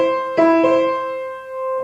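Piano playing the ragtime piece The Entertainer, a few sustained tonal notes with a struck accent near the start, right-hand rhythm offset by half a beat, close and clear with no talking.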